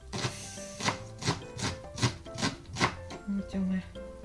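Kitchen knife chopping green onions into small pieces on a board, about eight crisp, evenly spaced knocks close by, then a couple of brief low tones at the end; no talking.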